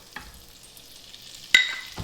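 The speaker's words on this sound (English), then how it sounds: "So I'm gonna start by taking half a stick of butter and melting that down." Half a stick of butter melts in a pan with a soft, quiet sizzle, broken by a few clinks and a sharper scrape of a utensil against the pan.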